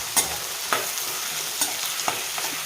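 Boiled avarekalu and onions are stirred in oil for upma, wedding-house style. A constant close sizzle is punctuated by several sharp spatula scrapes and clinks against the pan, with no one speaking.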